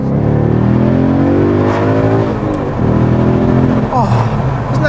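A car engine accelerating, heard from inside with the window down, a loud sustained drone whose pitch rises and sweeps upward near the end, mixed with wind rush.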